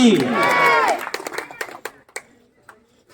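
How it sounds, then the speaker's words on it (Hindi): Scattered hand clapping at an inaugural ceremony follows a voice, with a few separate loud claps rather than a dense ovation, thinning out and fading quickly. "सभी लोग जोरदार तालियां हो जाए एक बार"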